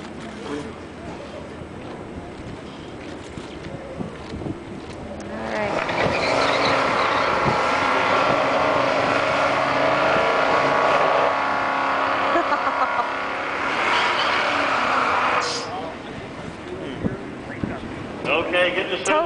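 Two white Chevrolet Caprice drag cars do a burnout at a drag strip, engines rising into a loud sustained roar with screeching tires for about ten seconds before fading, and commentary over the top.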